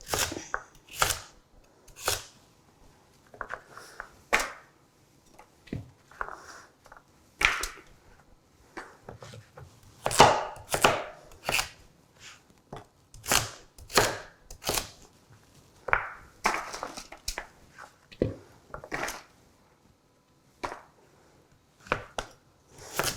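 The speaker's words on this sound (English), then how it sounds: "So we're just gonna cut it into slabs and then cut each one into slices" A knife chops and dices vegetables for roasting on a cutting board, giving sharp, close, irregular taps and thuds that come in quick bursts with short pauses between them throughout.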